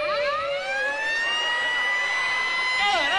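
A voice imitates a rising, wailing siren, holding a steady high tone before dipping and rising again, loud and close.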